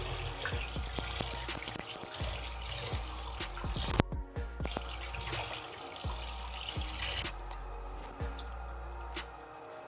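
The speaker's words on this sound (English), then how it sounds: "So I'm just going to wash this very well." Yam and assorted meat being washed under running water from a tap before cooking, a steady close rush and splash with occasional clunks and drips, and no talking.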